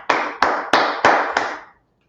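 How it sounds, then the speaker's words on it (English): Congregation clapping together in a brotherhood class, five sharp, evenly spaced unison claps, loud and close, ending in silence. "Let's clap it up for the Lord."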